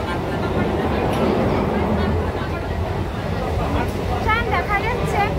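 A train rolls into a busy Kolkata station with a steady, loud rumble under the murmur of a crowd. A brief squealing whine rises near the end.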